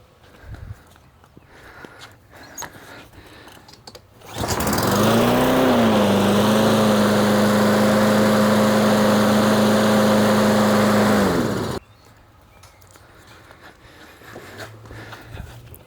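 A Troy-Bilt lawn mower engine fires up for a test run after repair, a loud, steady, close droning hum that holds for several seconds before cutting off abruptly, with quieter shop background on either side.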